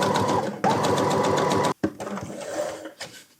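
A sewing machine stitches a seam on a suit jacket in rapid, loud bursts of mechanical whirring, stopping briefly and then running again in shorter runs that trail off.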